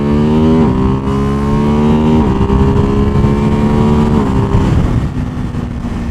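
A Ducati Hypermotard 698 Mono single-cylinder motorcycle with an Akrapovic exhaust at full throttle, climbing from second to fifth gear, its loud, close engine note rising in pitch and dropping sharply at each of several gear changes.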